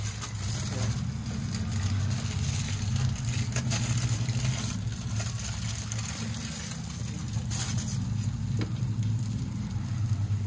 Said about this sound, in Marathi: मी तव्यावर शेकून घेते, अलगद सोडवून घ्यायचं